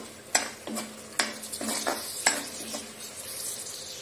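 Chili and turmeric frying in a kadhai while a spoon stirs through them, giving close scraping strokes with bursts of sizzle at an uneven rhythm.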